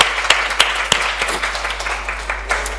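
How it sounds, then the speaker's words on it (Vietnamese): A church congregation claps, a few sharp individual claps at first and then a steady, fairly loud ripple of applause filling the hall. "hãy vỗ tay nào"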